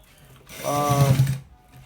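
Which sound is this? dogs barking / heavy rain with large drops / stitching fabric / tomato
stitching fabric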